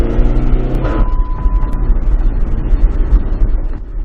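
Car engine revving as the gas is pressed on a Copart auction car, either a PT Cruiser or a Caprice Classic. A loud, close throaty rise swells near the first second, then a rough, steady rumble runs to the end with no talk.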